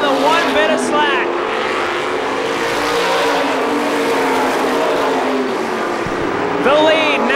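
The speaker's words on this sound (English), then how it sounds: "Deeney gonna sweep on by in the Turcotte Motorsports number 47" 350 supermodified race cars roar around an oval track at a 2005 Star Classic event, a dense, continuous engine din with a voice rising briefly over it at the start and end.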